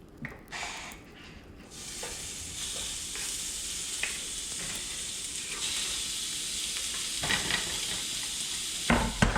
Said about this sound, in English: I add them to the pan and cook them on low heat